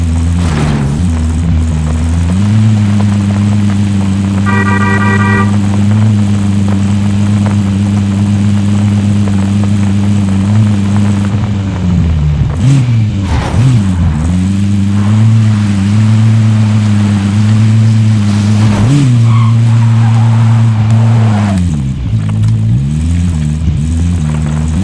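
A car is driven in the Call of Duty Warzone video game. The engine drones loud and close the whole time, with a steady hum that dips and rises again as the car slows and accelerates.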